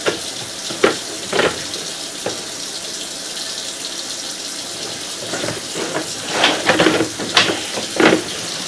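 Water runs steadily into a sewer main at a house on Vacationland Drive in Cincinnati, a constant hiss and rush with several louder splashing surges near the end.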